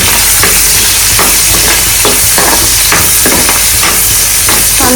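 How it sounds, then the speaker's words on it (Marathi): Onion frying in a hot pan during home cooking, a steady loud sizzle with faint scraping stirs at intervals and no talk. "हे असं गोल्डन ब्राऊन झालं की त्याच्यामध्ये मी ऑनियन टाकते कांदा"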